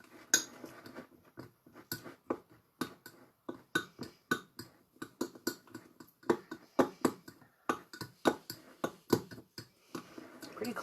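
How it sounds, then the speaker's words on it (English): A spoon stirs melting chocolate in a bowl for dairy-free baking, knocking and scraping against the sides in a steady run of sharp, close clinks with no talk. "let's see if I can stir this up"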